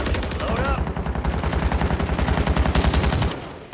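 Rapid sustained automatic fire from a Ram 9 submachine gun in the video game Warzone 3, a loud, dense stream of shots lasting about three seconds before cutting off, with a brief voice early on.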